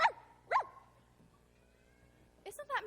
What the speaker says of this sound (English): Isn't that Miss Lark's dog, Willoughby?